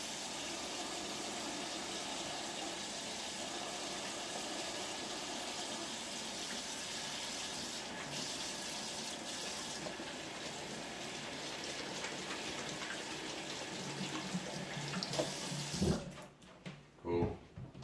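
A kitchen faucet runs steadily as hands are washed under it, a continuous splashing rush that holds for most of the stretch before the water cuts off, followed by a few brief clatters.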